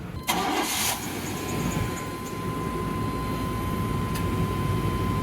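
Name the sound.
air conditioning compressor kicking on in a 1998 GMC truck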